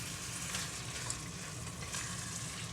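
Spinach and salted fish frying in a pan while being stirred: a steady, soft crackling sizzle with faint scraping, even and continuous, fairly quiet, with no talking.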